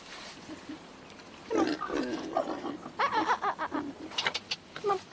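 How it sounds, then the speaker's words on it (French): Tamworth pigs grunt and squeal on a farm, a quiet start giving way to a string of close snorts and grunts in uneven bursts. "Nos cochons sont de race Tamworth, un croisement de porcs sauvages."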